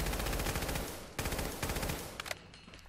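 Rapid automatic fire from a service rifle in the video game Fallout 4, a dense continuous stream of loud, close shots with a short break and a final clattering tail, no talk.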